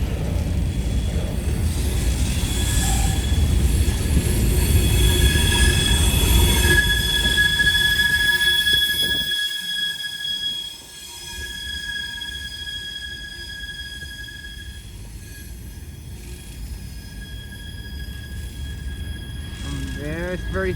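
A CSX freight train led by locomotive 3375 rolls past close by, a loud, steady rumble of wheels with high squealing from the railcars that briefly dips and then continues.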